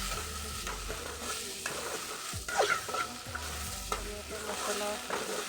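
Spices fry and sizzle in a pan for a meat dish while a utensil stirs and scrapes through them, with repeated clinks and scrapes over a constant hiss.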